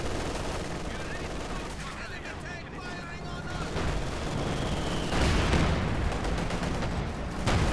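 Gunfire in the strategy game Company of Heroes 2, bursts of rifle and machine-gun fire with rumbling explosions in a dense battle mix, under a commentator's voice.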